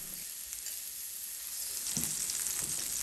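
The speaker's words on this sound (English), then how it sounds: "I want to hear sizzle when they hit the pan." Shrimp sizzle steadily in a hot pan over medium-high heat, a bright hiss that swells louder midway as more pieces hit the oil, with a few soft clinks.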